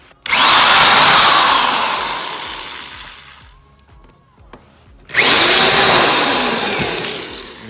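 Power drill boring holes through a Subaru BRZ front bumper during a splitter and canard install, two loud sustained whining bursts with a brief quiet gap between them as the motor winds down and restarts.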